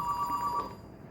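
A telephone rings with a single short electronic trill that cuts off partway through, leaving a faint room hum.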